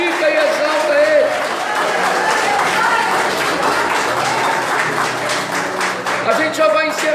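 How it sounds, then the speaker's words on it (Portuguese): A church congregation claps and applauds together, a dense, steady wash of hand claps lasting throughout, with a voice audible over it at the start and end. "Dá mais um aplauso forte para o Senhor"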